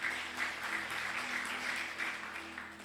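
A church congregation applauds during a sermon, a dense, sustained patter of many hands clapping at moderate distance, steady and even with no voices on top.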